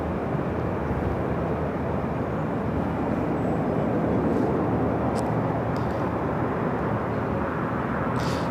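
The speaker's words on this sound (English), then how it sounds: "Delta Airlines Flight 2267 heading to SFO in the Old Northwest A320" A Delta Airlines Airbus A320, an older ex-Northwest jet 26 years old, at Los Angeles LAX airport, making a loud, steady broadband jet roar that fills the whole stretch without letup.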